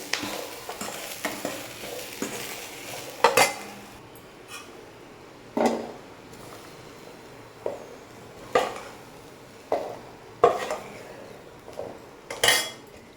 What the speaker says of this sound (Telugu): ఉప్పు కారం వేసుకొని ఇట్లా కలుపుకొని సర్వింగ్ బౌండ్లోకి తీసుకోవడమే